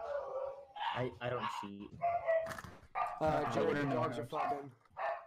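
Several dogs bark and howl close by, mixed with and partly underneath people talking, their yips and drawn-out howls coming in repeated bursts.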